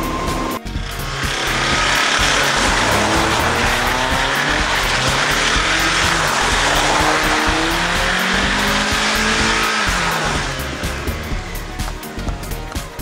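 Short-wheelbase naturally aspirated car drifting around a cone, engine roaring and revving loudly with long wavering tire squeals across the run, then easing off near the end.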